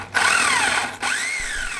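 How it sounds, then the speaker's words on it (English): Power drill boring into a wall with hammer action off, two close bursts of whining motor that ramp up in pitch, separated by a brief stop. "begin drilling with the hammer action off."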